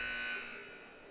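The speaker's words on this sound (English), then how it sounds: "Timeout buzzer sounds off here." A loud electronic timeout buzzer blares briefly at a basketball game, then fades into arena crowd noise.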